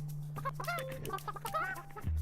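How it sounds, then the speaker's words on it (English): Chickens cluck in short, chirpy bursts over a constant low electronic hum, the calls close and fairly clear. "There are chickens."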